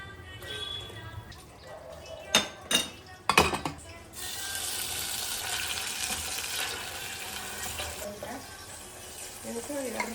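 Small boneless chicken pieces hit a tablespoon of hot oil in a home kitchen pan with a few sharp clinks of utensils against the pan, then a steady crackling fry continues underneath while someone talks.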